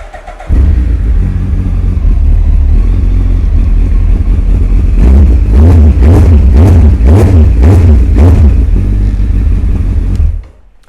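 A 2017 Suzuki GSX1300R Hayabusa ABS idles with a deep, loud exhaust burble close by, then revs in a series of quick throttle blips before settling back and cutting off near the end.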